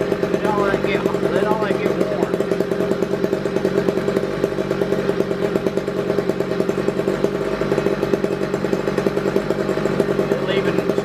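A two-stroke string trimmer engine runs at steady high throttle while warming up, making a continuous buzzing, clattering drone that is close and loud throughout.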